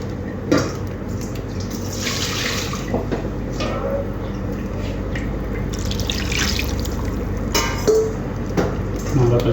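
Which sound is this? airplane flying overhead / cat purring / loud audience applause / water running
water running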